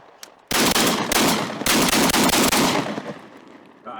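A SPAS-12 shotgun firing high brass birdshot outdoors: two loud, close blasts about a second apart, each followed by a long ringing echo.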